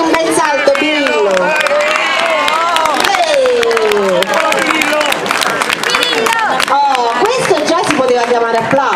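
Audience clapping and cheering at an amateur dog show parade, a dense continuous crowd roar with applause running loud throughout, mixed with voices and babble.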